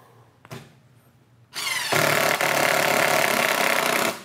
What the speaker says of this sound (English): I wouldn't use that mode for driving these screws, but got the job done.